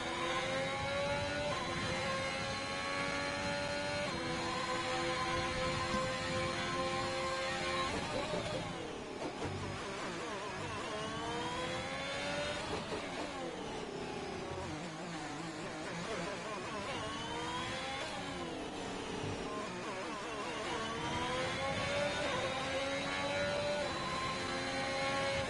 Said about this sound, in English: I'm going to talk again because the engine sound is very glitchy.